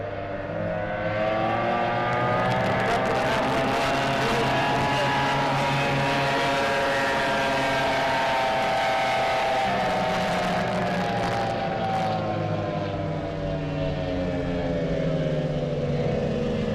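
Race boats roar off the line together at the start of a boat race at Lake Tholocco, a loud sustained engine drone with rising and falling pitch that holds for the whole stretch, close and continuous without pause.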